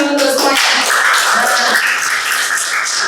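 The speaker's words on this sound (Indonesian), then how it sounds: "beri tepuk tangan dulu untuk semuanya" Audience applause at a school positive-culture dissemination session, a dense, loud spell of many hands clapping continuously throughout, with a brief voice at the start.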